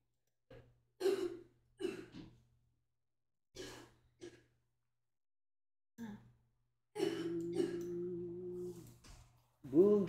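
A person coughs and clears their throat in short, separate bursts with silent gaps between, ending with a longer breathy sound and a final cough, close and fairly quiet.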